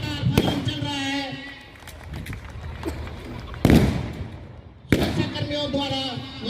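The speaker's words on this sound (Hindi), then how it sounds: "जैसा कि आप देख रहे हैं कि लगातार फायरिंग चल रहा है।" Gunfire in a Republic Day security drill demonstration, with a few loud sharp bangs and echoing reports spaced seconds apart outdoors while someone narrates over them.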